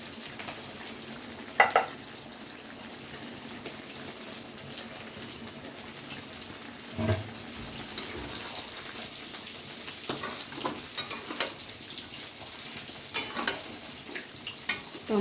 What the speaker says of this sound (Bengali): টমেটোটাকে দিয়ে সব কিছুর সাথে খুব ভালো করে আরও একবার মিশিয়ে নিলাম